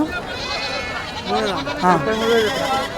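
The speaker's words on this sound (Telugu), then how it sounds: "ఇక్కడ చూడొచ్చు మూడు మేకలు అయితే ఉన్నాయండి" Goats at the Kothacheruvu weekly livestock market bleat a few times at close range, short wavering cries mixed in with people talking over them.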